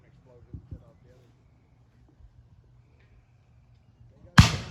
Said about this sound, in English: The one explosion set off the other.